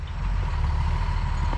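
A crane truck idles steadily nearby while lifting a beam into place at a sawmill shed, its diesel engine a constant low rumble with no break and no talk.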